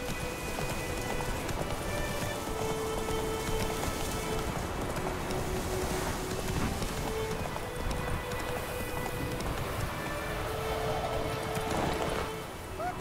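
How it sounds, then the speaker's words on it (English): Steady rain pours in the video game Witcher 3, a dense continuous hiss throughout, with faint hoof clip-clops and game sounds underneath and no talking. "It's raining, it's pouring"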